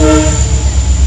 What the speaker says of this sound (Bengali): এটা হচ্ছে গুয়াহাটি লিডু ইন্টারসিটি এক্সপ্রেস।